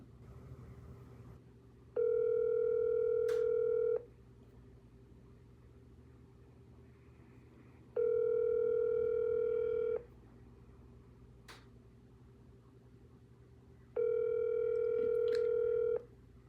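A phone call's ringback tone while waiting for an answer: three two-second rings repeating at a steady interval, with quiet pauses between them.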